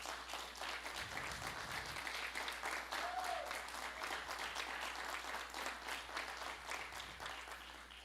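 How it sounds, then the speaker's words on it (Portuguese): Congregation applauding during a Presbyterian church ordination service, a steady, fairly faint wash of clapping filling the room throughout, with a brief voice in the middle. "Vamos aplaudi-los neste momento"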